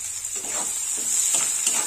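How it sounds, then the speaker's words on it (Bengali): Chopped onions with whole garam masala and dried red chillies frying in oil hiss steadily, broken by soft stirring scrapes, close and alone. "পেঁয়াজটা একটু লাল লাল করে ভাজানো।"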